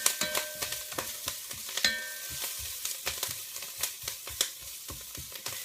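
A spoon stirs sweetcorn chowder in a pot, making a quick run of close, knocking scrapes against the sides over a faint bubbling sizzle, with no voices.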